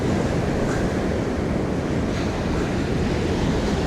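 Choppy sea waves roll in at Skegness beach in the evening, a dense, continuous wash of surf with steady wind noise across the microphone, no voices.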